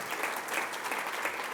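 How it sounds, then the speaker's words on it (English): Applause from the audience at the Russell "Rusty" S. Rozzelle Building Dedication Ceremony, honoring 45 years of service: a steady, dense wash of clapping that holds even throughout, moderately loud and alone, with no talk over it. "I'm going to selfishly ask that you give that a round of applause"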